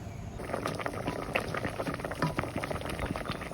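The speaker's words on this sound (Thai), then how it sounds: "รอให้น้ำเดือดนะครับ" Water boiling in a pot, a steady bubbling and popping patter, quiet and continuous throughout.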